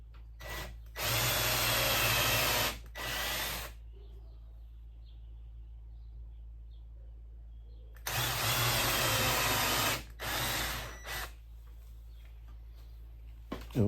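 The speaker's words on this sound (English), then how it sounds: "And now I'm gonna drill those out." A power drill whirs in two loud sets of bursts, each a couple of seconds long, as it drills out small puncture holes made for mounting a Merlin 50-foot air hose reel. A steady low hum runs beneath, with quieter pauses between the bursts.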